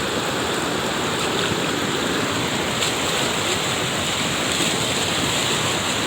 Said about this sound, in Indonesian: Air sudah mengalir di jalanan, kebanjiran.